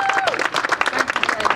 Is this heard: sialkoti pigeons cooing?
no